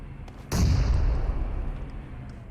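A grenade explodes in PUBG on the Erangel map: a sudden loud boom after a short quiet lead-in, followed by a heavy low rumble that slowly fades.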